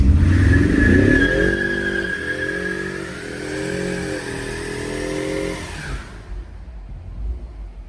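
A 2021 Ford Mustang EcoBoost engine revving hard during a line lock burnout, a loud climbing roar that holds a high steady pitch for several seconds, then cuts off abruptly.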